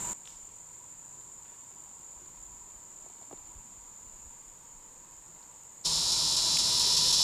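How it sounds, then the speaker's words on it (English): Cicadas buzz near a swampy area of public hunting land, a steady high-pitched drone that holds evenly, then swells abruptly louder and broader near the end. "cicadas."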